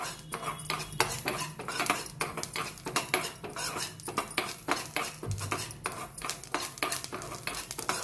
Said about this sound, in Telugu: ఇప్పుడు ఆవాలు జీలకర్ర అయితే వేస్తున్నానండి. ఇవి కూడా దోరగా వేయించుకోవాలి